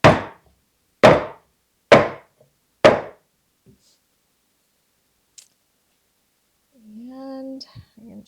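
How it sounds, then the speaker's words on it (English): Four loud metal muffin tins of gluten-free pumpkin molasses batter are dropped on a counter, evenly spaced sharp clattering bangs about a second apart, followed by quiet and a brief voice. "you'll want to drop your muffin tin so that there's no air bubbles."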